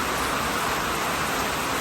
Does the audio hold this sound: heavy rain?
yes